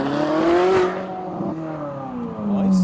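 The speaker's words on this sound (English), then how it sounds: "That's where the cars are all leaving, including this cherry red R33 that's about to head out." Slammed modified cars, including a cherry red R33, rev and pull away as they leave a car show, engines rising and falling in pitch with whirring acceleration close by and loud.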